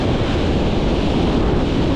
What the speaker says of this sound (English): Oh, look at that. Look at that big wave.